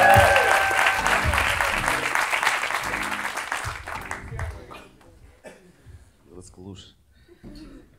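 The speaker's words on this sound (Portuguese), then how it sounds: "Um forte aplauso, Adriano Moura!" Dense audience applause for a stand-up comedian at a live Valentine's comedy show, loud at first and tapering off after about four seconds, leaving scattered claps under a voice.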